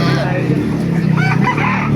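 A rooster crows loudly nearby over a steady background hum, with other fowl and faint voices mixed in, at a chicken market in Baliuag, Bulacan, Philippines.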